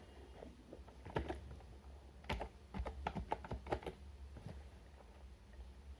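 Quiet, close clicks of a computer keyboard come in short irregular bursts during network router setup, faint against a low room hum, with no voices.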